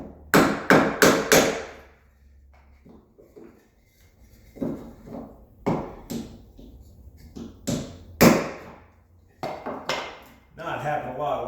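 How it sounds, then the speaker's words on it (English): Bifold door hardware being tapped into place with a wood block against its plastic part, giving a quick burst of sharp knocks, then scattered single and paired taps at close range with brief pauses between. "Gently tap that in."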